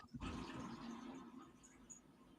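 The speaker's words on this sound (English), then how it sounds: "It was a toilet flush" A toilet flushing with a loud onset and a rushing, gurgling roar of water that settles into a steady wash and holds for a couple of seconds, close by.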